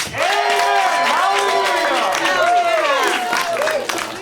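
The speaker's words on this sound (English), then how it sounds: "clap now if you would like to hear a sermon from Faith" An audience in a small live venue claps and cheers together, a dense, sustained wash of hand claps with voices rising over it, loud and close for several seconds.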